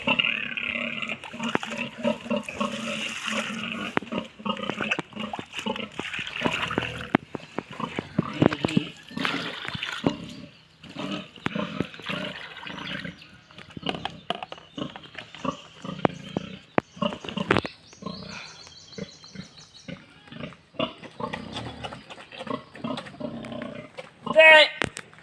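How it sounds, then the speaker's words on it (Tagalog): Pigs being tended on a farm, with grunts and oinks mixed with splashing water and clattering; people talk throughout the busy, close-up scene. "Ini yang baboy ya."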